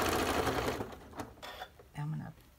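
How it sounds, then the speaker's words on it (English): Sewing machine stitching through a very thick fleece rag quilt seam, a close, steady whirring buzz that slows and pauses briefly before resuming, with someone talking over it. "sew over that very thick seam. And keep going."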